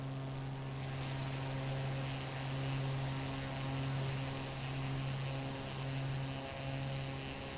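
Cessna propeller engine in Microsoft Flight Simulator 2024, a steady droning hum with strong tonal whine, continuous and even throughout with slight swells, no voices.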